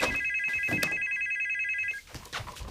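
A telephone rings with a bright, repeating electronic trill for about two seconds, loud and close, then cuts off into faint background noise.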